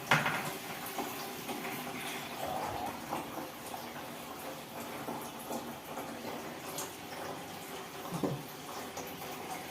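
Water runs into a bathroom as a faint, continuous rushing and splashing with occasional small knocks. No one talks over the flow.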